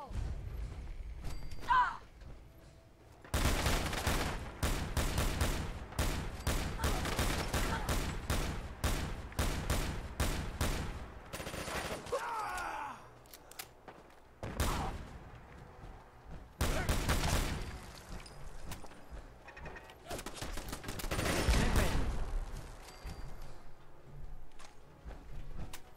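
A Mark 14 rifle fires in a modded shooter video game, with several clusters of rapid, sharp shots ringing out loudly and separated by quieter gaps.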